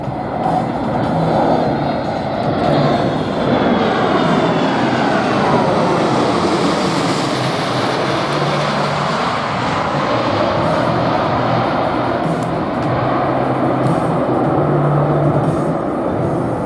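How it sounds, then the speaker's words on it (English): A C-17 Globemaster III military jet makes a high-speed pass at an airshow, a steady, loud broadband engine roar that sweeps and shifts in pitch as it goes by, continuous throughout with no talk. "from the left, the C-17 Glowmaster 3 in the high-speed pass"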